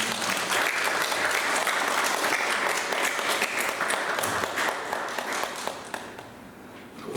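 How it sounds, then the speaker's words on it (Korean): Steady applause from a church congregation welcoming visitors at a Sunday worship service, a dense wash of many hands clapping that holds for several seconds and thins out toward the end. "우리 박수 한번 부탁드리겠습니다"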